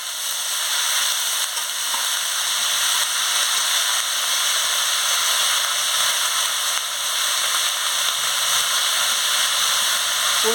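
Snake gourd, kundri and potato fry in a pan, a steady close hiss of sizzling oil that barely changes throughout, loud and alone with no talking.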